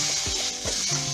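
Potatoes seasoned with turmeric and salt fry in oil in a kadai, a steady close sizzle with a few stirring scrapes.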